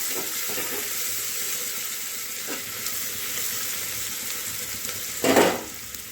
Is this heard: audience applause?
no